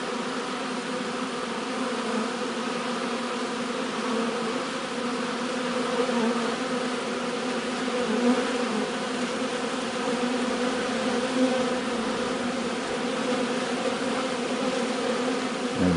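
A crowd of honeybees buzzes steadily in front of their hive during orientation flights, a dense, continuous droning hum from many insects close by, with no voices.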